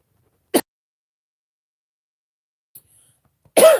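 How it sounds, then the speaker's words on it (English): Two short bursts of coughing close to the mic, separated by a long silence, with a faint click between them. "I tried to mute out the cough"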